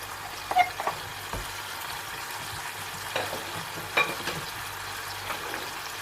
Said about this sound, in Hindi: अब मैं इसके अंदर ये सारे मसाले ऐड करूँगी